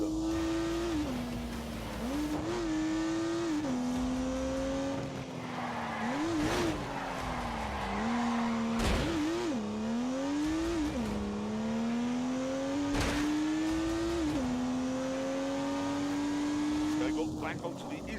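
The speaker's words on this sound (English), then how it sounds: "unleashed 365 rampaging horsepower from the turbocharged 3-litre straight six" Turbocharged 3-litre straight-six race car in The Grand Tour video game, engine note rising and falling through gear changes with tire skids and squeals, loud and continuous throughout.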